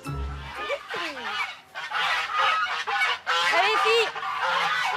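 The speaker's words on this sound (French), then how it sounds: "C'est une meute, les oies, hein." Geese honk repeatedly in their enclosure beneath the pillars of a roller coaster at Europa Park, with loud, nasal calls overlapping in an irregular, agitated chorus close by.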